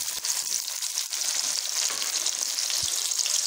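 Green onions sauté in a pan for vegetable fried rice, giving a steady, close, continuous sizzle with occasional soft stirring scrapes and no talking.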